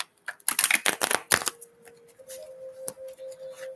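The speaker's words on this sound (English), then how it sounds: "Let me just shuffle this deck too." A tarot card deck is shuffled at close range in a quick burst of crisp riffling and slapping cards, followed by a steady tone and a few softer card sounds.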